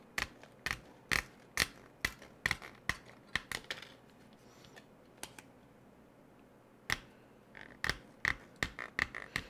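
A whiz cutting tool bites into a metal window guard for a Cherokee SCX10 II model in a rapid string of sharp, crisp snips and clicks, close up, with a short pause partway through.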